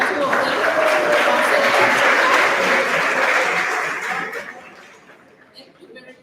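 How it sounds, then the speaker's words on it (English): A crowd at a law society presidential debate held at a university gives the two candidates a round of applause. Dense, steady clapping runs loud for about four seconds and then tapers off, with some chatter and laughter mixed in. "A round of applause to the 2 of them"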